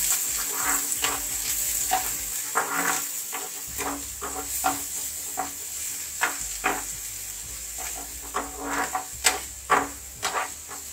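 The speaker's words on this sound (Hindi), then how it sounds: "यहाँ पे हम डालेंगे प्याज और इसे हम बिल्कुल गोल्डन ब्राउन फ्राई करेंगे" Chopped onion frying in hot oil for Indian poha, a steady sizzle broken by frequent scraping and clanking strokes of a spoon stirring in the pan, close and fairly loud with no talking.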